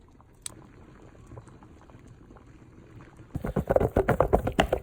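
Carrots and potatoes dropping into a pot of boiling water for blanching: soft bubbling at first, then a sudden burst of splashing and rolling bubbles toward the end.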